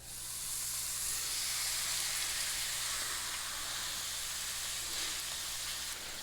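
A ribeye steak sears in a skillet preheated over medium heat with olive oil. It gives a loud, steady, close sizzle that starts within the first half second and holds evenly to the end, with no talking.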